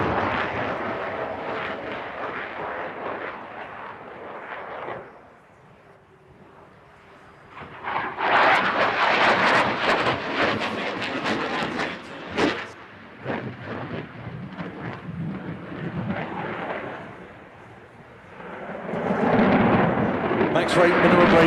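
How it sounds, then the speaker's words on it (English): A Boeing F-15 fighter jet flies an airshow display at Farnborough, loud thunderous engine roars surging in several bursts with brief quieter gaps, at times under a commentator's voice. "All of these highly challenging maneuvers easily done by the F-15 and the Boeing pilots"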